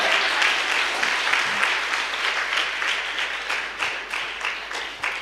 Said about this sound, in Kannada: Shall we clap for Jesus for bringing all of us ನಾವು here?